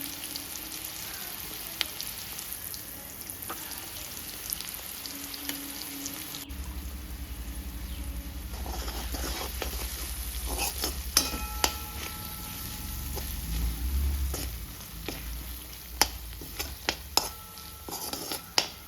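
Spinach chutney with onions and turmeric is stirred in a hot pan, a steady close frying crackle with occasional scrapes and clinks of the spoon, no voices.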